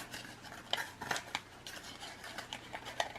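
Scissors snip into a paper cupcake liner from Walmart, a few crisp, close cuts with light rustling of the paper between them, quiet and without talk.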